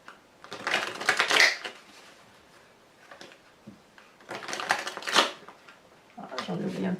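Tarot cards are shuffled, handled and laid down on a table in papery bursts of rustling and soft slaps, with quieter pauses between them.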